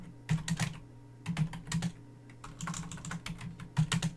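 Router configuration commands are typed on a computer keyboard in short clusters of crisp, close keystrokes separated by brief pauses.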